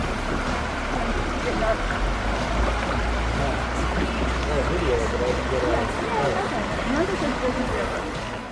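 A small waterfall near Juneau, Alaska, pours with a steady, loud, continuous rush of water, while people talk over it throughout.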